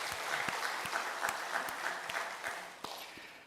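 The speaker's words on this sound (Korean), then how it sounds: "하나님 앞에 감사, 영광의 박수 올리겠습니다." Congregation applauding during a Sunday church service: steady, moderately faint clapping from many hands, with individual sharper claps standing out, sustained throughout without talk.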